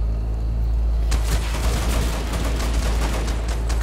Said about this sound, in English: I'm just shooting wildly and violently into the station and sort of just hoping for the best